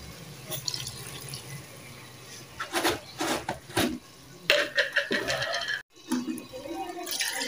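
Water is poured into a pan of village-style chicken aloo curry during cooking, making faint splashing and trickling in irregular bursts with short pauses and low background noise.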